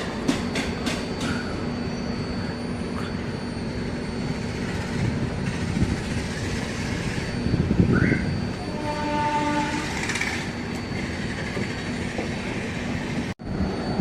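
The Sampark Kranti Express running after leaving Alappuzha, with steady rumbling and rattling of the coaches, wheel clicks, and a long horn sounding partway through, heard from inside the train.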